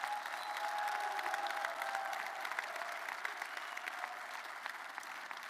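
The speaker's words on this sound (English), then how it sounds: "How about a round of applause for them?" Crowd at a university basketball press conference applauds the men's and women's teams, steady sustained clapping from many hands at moderate distance, no speech over it.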